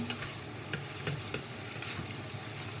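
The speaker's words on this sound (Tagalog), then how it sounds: "lagay na natin itong ating beef. So, hintayin lang natin maging yung beef ay brown" Beef browns in a pan for kare-kare with a gentle, steady sizzle, broken by a few quick spoon scrapes and taps, quiet and close with no voices.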